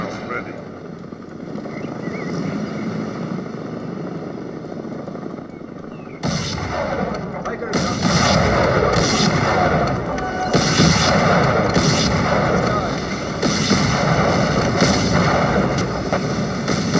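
Artillery fire in a C&C Generals Rise of the Reds battle, a dense stream of booms and gunfire continuing throughout, growing heavier and more rapid after the first few seconds, with voice lines heard underneath.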